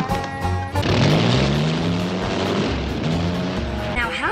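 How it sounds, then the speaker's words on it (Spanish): A cartoon doghouse turned aircraft gives off a strange, continuous propeller-like drone with rising and falling tonal whine, loud and steady throughout, mixed with a busy soundtrack. "se escuchan sonidos un poco extraños y parecidos al de una hélice"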